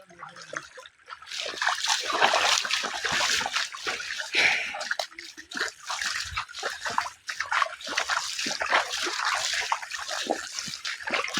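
Water trickling and splashing along a stream near a waterfall, a continuous close, bright rush with irregular splashes and some footsteps, with occasional faint voices.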